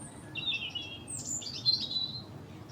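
A small bird chirping outdoors in a few quick high tweets and trills over a quiet, low background.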